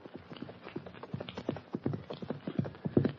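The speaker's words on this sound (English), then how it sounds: "a horse and rider bear down on them at a fast gallop" A radio sound effect of a horse and rider bearing down at a fast gallop, with rapid rhythmic hoofbeats growing gradually louder and closer over a muffled, narrow-band old recording.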